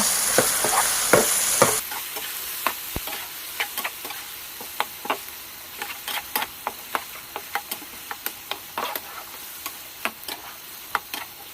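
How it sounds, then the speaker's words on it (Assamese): Ginger-garlic paste is stirred into frying pork for an Assamese pork curry, a loud hiss at the very start giving way to steady scraping and clicking of the spoon against the pan, repeated every second or so with no voices. "এতিয়া ইয়াতে মই আদা নহৰু পিচি থোৱা আছিলে সেয়া দি দিম। দি ভালদৰে লৰাই দিব লাগিব।"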